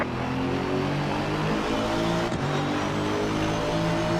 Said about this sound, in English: Gotta say I'm a huge fan of the way this car sounds.